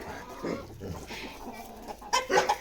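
Chickens clucking on a farm, with scattered soft clucks and short calls near and far, growing busier and louder toward the end, with no talking.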